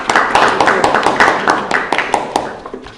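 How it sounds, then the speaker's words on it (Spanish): Brief round of applause for a woman named Estela in a Bible study class, heard as uneven, separate hand claps from a small group, fairly close and steady for about three seconds. "Ahora sí vamos a darle el aplauso a Estela."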